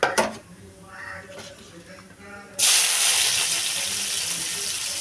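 Tomato and drumstick tossed into hot oil in a pan: after a brief quieter stretch with cooking clatter, a sudden loud, close sizzle bursts in and continues steadily as a bright, hissing crackle.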